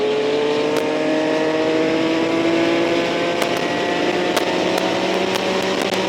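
Yamaha MT-09 motorcycle riding at steady speed, a loud continuous engine drone with rising and falling harmonics, close and sustained with wind noise and no talking.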